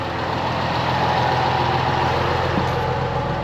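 Red farm tractor paired with a 6480 idling at a steady low rumble, continuous and fairly close, with no talk over it.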